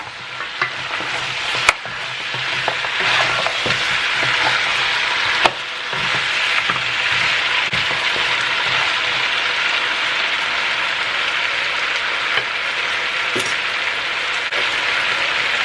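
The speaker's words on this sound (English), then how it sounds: "It's getting a nice sear." Cow foot searing in a hot pan, producing a loud, steady, dense sizzle that runs throughout with occasional sharp clicks and scrapes.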